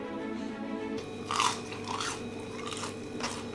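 A few crisp bites and crunches into ready-made fried potatoes from a café, close and fairly quiet over a low steady hum.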